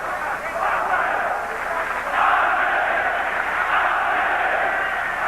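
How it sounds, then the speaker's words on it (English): Boxing arena crowd of about 6,000 fans at the Hala Ludowa in Wrocław, Poland, roaring steadily to urge on heavyweight Andrew Golota against Tim Witherspoon, a dense continuous swell that rises midway and stays loud throughout. "The crowd trying to urge on Andrew Golota."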